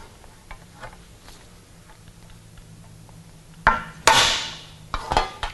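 A hammer strikes a hollow punch on sheet metal during bead-rolling work, sounding as a few sharp ringing metallic hits near the end after a quiet stretch, close and without talk.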